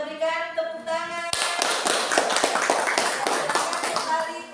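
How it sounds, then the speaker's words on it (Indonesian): A classroom of students claps for a group after their presentation, starting abruptly after a voice speaks, with scattered close hand claps and shuffling continuing to the end. "Kita berikan tepuk tangan."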